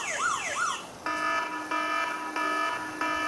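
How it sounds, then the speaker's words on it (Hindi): A phone anti-theft alarm rings loudly and alone, opening with a rising, warbling siren sweep and then switching to a repeated steady electronic tone that pulses in bursts roughly every 0.7 seconds. "अब ये जब तक ये अलार्म करता रहेगा,"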